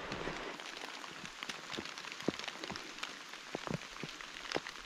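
Heavy rain pours steadily during a hike on a main road along the Glen Affric Kintail Way, a dense close hiss with scattered sharper drops tapping on a nearby surface.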